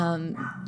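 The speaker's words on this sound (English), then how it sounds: "Sorry about the dog barking." A dog barks once close by, a short sharp yelp that dominates the brief moment before fading into faint background noise.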